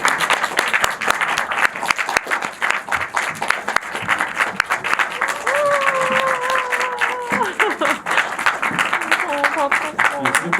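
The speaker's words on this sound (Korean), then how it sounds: "박수 부탁드립니다." An audience in a cinema claps steadily and warmly at a film screening talk, a dense wash of applause that lasts throughout, with a few brief raised voices rising over it.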